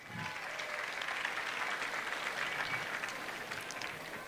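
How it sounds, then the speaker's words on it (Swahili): Audience applause at a graduation event, a dense, steady wash of clapping hands that fills the whole stretch at even loudness, close and sustained without a break. "Simunipigie makofi."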